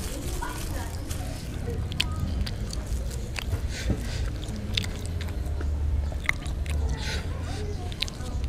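Close, steady chewing and biting of super-spicy bakso meatball soup at a mukbang, with soft slurps and crunches over continuous background noise.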